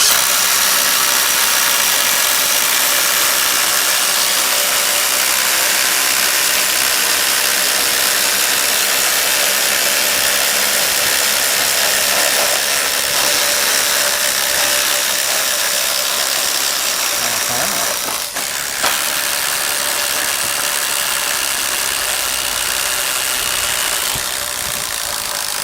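Cordless impact drivers from Ryobi, AEG and Milwaukee run at top speed, sinking screws into dry pine with a loud, steady mechanical whir and rattling hammer action that holds for the whole stretch, with no talk over it.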